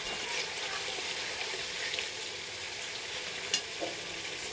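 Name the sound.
frying and stirring spice paste with tomato for chicken curry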